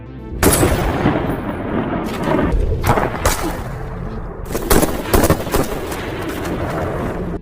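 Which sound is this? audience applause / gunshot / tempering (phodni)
gunshot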